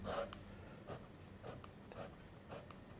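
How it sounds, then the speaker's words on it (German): Soft, faint scratching of a Herlitz school fountain pen with an iridium-tipped nib gliding across paper, in a few brief strokes with quiet gaps between them. "durch dieses Iridiumkorn gleitet der Füllhalter angenehm weich übers Papier"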